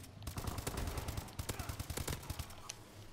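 Rapid gunfire bursts from an AK-style rifle in the video game Call of Duty Advanced Warfare, repeated sharp shots in quick rhythm, moderately loud, with further scattered shots trailing off.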